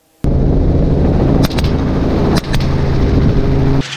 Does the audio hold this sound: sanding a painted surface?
no